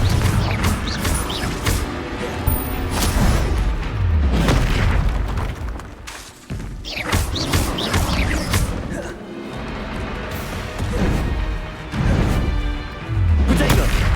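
Confringo blasting spell explosions in the Hogwarts Legacy video game, heavy booms and crashes repeating through a dense, loud battle with other spell sounds and game music layered throughout.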